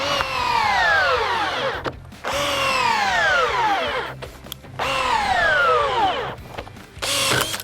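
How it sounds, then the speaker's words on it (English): A power drill in drill mode whines in repeated bursts driving a screw into timber, each pitch dropping as it bites into the wood, with short pauses between three long runs. "now what we're going to do is just going to try it in drill mode"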